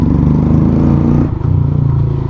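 A Hero Xtreme 125R motorcycle fitted with an Akrapovic full-system exhaust revs loud and close, a raspy throbbing drone with a brief dip midway before the engine pulses back up.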